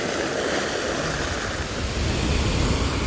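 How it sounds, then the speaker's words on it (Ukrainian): Modest sea waves wash onto the shore in Tenerife as a steady, loud, broadband roar, mixed with gusty wind buffeting the microphone and no voices. "Це ще сьогодні хвиля не дуже велика."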